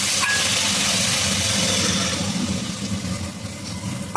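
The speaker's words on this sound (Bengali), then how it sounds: "এখন অল্প পরিমাণ জল দিয়ে দেবো।" Water goes into spice masala frying in a pan and sets off a loud, hissing burst of steam. The hiss stays strong, then eases toward the end.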